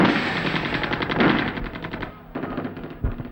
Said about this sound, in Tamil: துப்பாக்கி சத்தம்